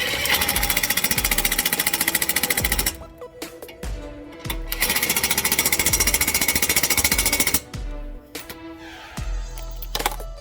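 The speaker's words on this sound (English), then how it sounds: "Once you get the bolts in there, you just tighten them up." Front hub bearing bolts on a 2009 Chevrolet Malibu are driven tight with a power tool, two long loud rattling hammering bursts followed by shorter stuttering pulses, close up and with no voices.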